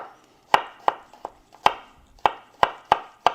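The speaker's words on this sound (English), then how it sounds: "As far as your garlic is concerned, we're going to mince it" Sharp knife chopping garlic on a cutting board with nine distinct, crisp strikes spaced unevenly about every third of a second, close and fairly loud, with no talking.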